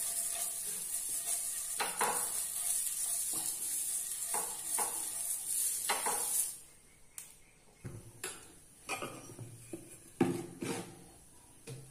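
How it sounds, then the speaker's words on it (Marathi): A cut onion rubs oil across a hot cast-iron pan, producing a loud hissing sizzle for several seconds that suddenly cuts out, followed by scattered clinks and knocks of metal cookware. "गॅसवर भिडं गरम करत ठेवलंय, तर त्याला मी आता कांद्याच्या साहाय्याने तेल लावून घेते।"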